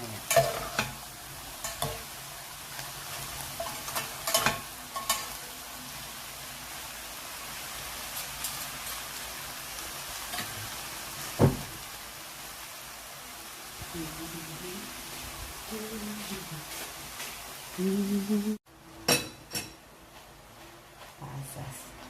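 Bangus relleno filling of minced milkfish and vegetables fries in a pan, a soft steady sizzle with intermittent stirring scrapes and clinks close by, while a voice talks quietly over the cooking.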